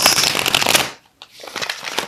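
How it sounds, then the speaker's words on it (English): A deck of tarot cards is shuffled by hand, close up. Two bursts of rapid crisp riffling are split by a brief silent pause. "I'm going to have to shuffle."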